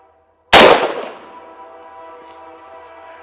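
A single sharp, loud gunshot from a shoulder-fired gun with a hard plastic stock cracks up close, followed by a ringing, slowly decaying tail.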